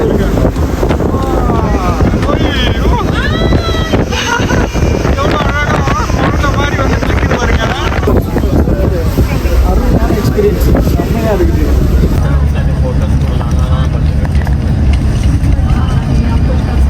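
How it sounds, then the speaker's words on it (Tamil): A ferry ride out from a city toward New York, with steady loud wind buffeting the microphone over a continuous engine and water rumble, while people talk throughout. "கப்பலில் இப்போ தான் நான் போகிறேன்"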